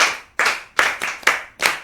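A group of children at a Yoruba children's programme claps together for a classmate, six sharp, evenly spaced claps in a steady rhythm, close by and with no talking.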